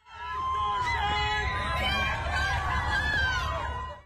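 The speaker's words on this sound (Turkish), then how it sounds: "Mahkeme binasına tezahüratlar arasında girdi" Fans gather outside a courthouse as Johnny Depp arrives, a dense crowd of cheering, chatter and high shouts and screams holding steady and loud throughout.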